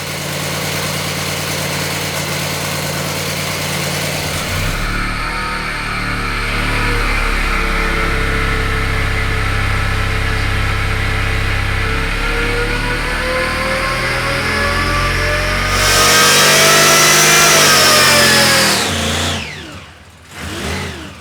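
A supercharged 350 small-block Chevy V8 idles with a steady low rumble, then climbs in pitch as it revs hard to a loud, high-pitched peak around 6,000 RPM before dropping off sharply.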